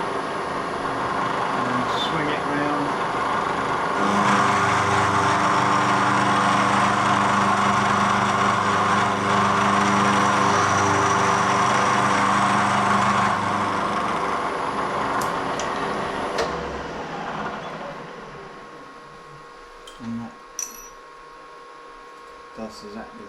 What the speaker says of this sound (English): Bring the cutter down